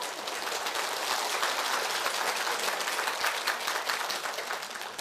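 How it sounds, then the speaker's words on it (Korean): Dense, continuous applause from an audience at a Buddhist lecture on the Diamond Sutra at Woljeongsa Temple on Odaesan, many hands clapping steadily at close range. "자연스님 얘기만 하면 박수를 치네요."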